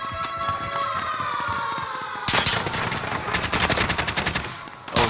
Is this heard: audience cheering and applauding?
no